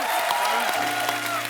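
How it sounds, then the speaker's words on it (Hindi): Studio audience applause on a TV comedy show, a dense steady wash of clapping filling the whole stretch, with music and voices faintly underneath. "एक बार सुनिधि और हितेश के लिए जोरदार तालियां।"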